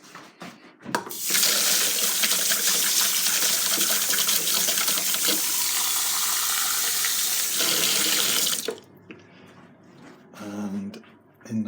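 Warm water runs from a kitchen tap into a plastic cup in a steady, loud gush for about seven seconds, then shuts off, leaving faint handling noises.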